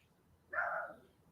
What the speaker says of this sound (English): my God, dog, shut up.